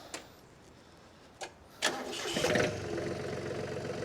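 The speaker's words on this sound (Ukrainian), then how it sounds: "Зараз трактор запустимо, послухайте його роботу" After a few light clicks, a Yanmar F210 small tractor engine cranks, catches, and settles into a steady, close mid-pitched idle.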